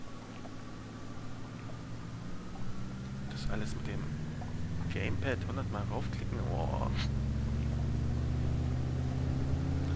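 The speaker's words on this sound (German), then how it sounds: "Ich starte jetzt nochmal die Motoren" Aircraft engines spinning up inside the Microsoft Flight game, a steady low drone that slowly rises in pitch and builds in loudness as someone talks over it.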